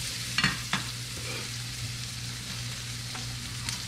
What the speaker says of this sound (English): We're gonna let those cook down so they can get a little bit soft.